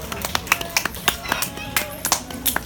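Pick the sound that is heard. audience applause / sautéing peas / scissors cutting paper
audience applause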